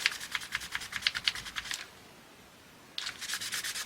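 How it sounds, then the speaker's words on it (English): Paper being rubbed by hand to age it, a quick series of dry, scratchy strokes in a steady rhythm, then a pause and another burst of rubbing, close and fairly quiet. "You've also got to be careful that you don't rub it in the same spot too much and ruin your paper"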